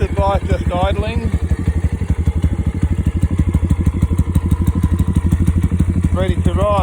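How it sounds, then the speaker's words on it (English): A Thumpstar TSX 140cc dirt bike engine idles steadily nearby with a loud, even, thumping pulse, while someone talks over it briefly at the start and again at the end. "there's the bike just idling"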